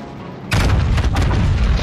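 Naval guns booming in World of Warships, a Colombo cruiser's full salvo landing: a sudden loud, deep blast bursts in after a quiet moment and rolls on as a sustained, heavy rumble.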